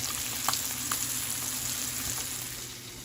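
Blackened fish sizzles in a hot pan just after being flipped, a soft, steady frying hiss with a few faint pops and spatters, heard alone at low volume.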